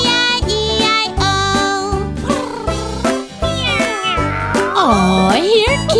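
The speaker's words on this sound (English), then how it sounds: "Aw, here, kitty kitty. Meow meow." A cat meows repeatedly in a nursery-rhyme song, with clear, bending cries over a steady, bouncy musical backing throughout.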